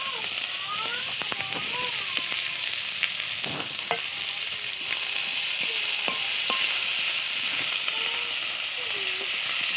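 Chopped onion fries in oil in a wok with dried red chillies, a loud, even sizzle running throughout, with scattered spatula scrapes and a speaking voice faintly underneath.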